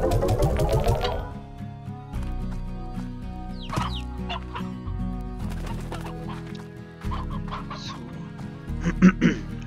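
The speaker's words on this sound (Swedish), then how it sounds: "Här är det tuppen." Rooster clucking in the video game Slime Rancher, a run of clucks and short calls layered over a steady mechanical whirring game background, close and moderately loud.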